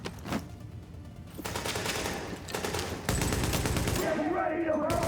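Rapid gunfire bursts in a video game, dense automatic shots and explosions filling most of the stretch, loud and continuous with only a brief lull.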